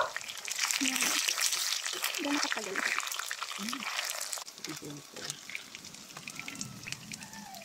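Vegetables for a vegetarian meat adobo fry in a pan with a steady crackling sizzle, loud at first and then easing off somewhat, while a person talks over it.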